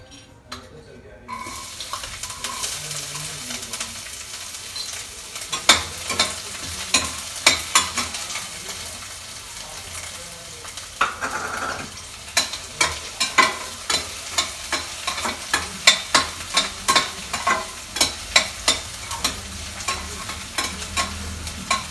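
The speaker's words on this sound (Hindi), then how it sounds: "इधर साग छोंक रही हूँ मैं" Saag being tempered and stirred in a pan at home after hing and paneer went in, with steady sizzling and frying under a run of sharp, rhythmic scraping stir strokes that grow busier and louder toward the end.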